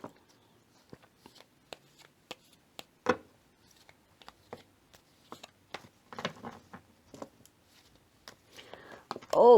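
Tarot cards shuffled by hand, giving a run of soft, quick riffling ticks and flutters close by, busier and louder near the end, with faint whispery sounds between them.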